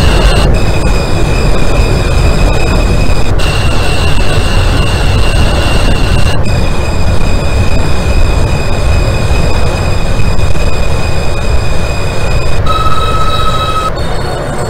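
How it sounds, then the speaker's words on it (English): An F local subway train in the OpenBVE train simulator runs steadily at Carroll Street, its loud continuous rumble and rail noise carrying sustained high whining tones that shift pitch every few seconds throughout, with no talking. "This is a Manhattan-bound F local train"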